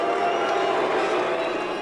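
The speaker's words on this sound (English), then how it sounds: "There was some booing from fans." Racing fans jeer Formula One championship leader Nico Rosberg, a dense, steady crowd roar that stays loud and unbroken throughout.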